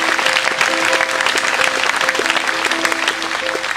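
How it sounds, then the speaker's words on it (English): A festival audience at Abbotsbury in 2013 gives the backstage staff a big hand. The steady, loud clapping runs for a few seconds over a faint, repeating tonal pattern in the background. "So can you give them a big hand, please?"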